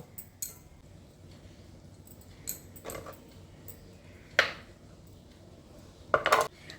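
A knife cuts taro root (arbi) into pieces for a vegetarian potato dum dish. Five or six sharp taps and clinks on a board come at uneven intervals over quiet kitchen background, with no talk.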